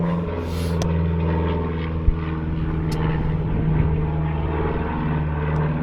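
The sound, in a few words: propeller airplane flying overhead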